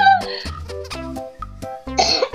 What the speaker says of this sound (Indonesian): Aduh, batuk aku.